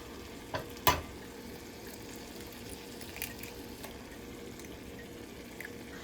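Two eggs are cracked into a hot pan and begin to fry, with a couple of sharp cracks and taps up front followed by a quiet, steady sizzle close by.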